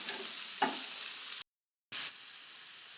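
Green onion leaves frying in a pan for paratha, a steady close sizzle with one short stirring scrape, briefly cut to silence midway before the sizzle resumes.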